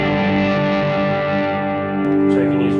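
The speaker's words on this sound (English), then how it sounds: "Then I can stack it into heavy cave reverb" Electric guitar through a heavy cave reverb effect on a worship guitarist's pedalboard: a sustained, washy chord ringing with long smeared tails and a shimmering decay, loud and close, with a slight pick attack partway through.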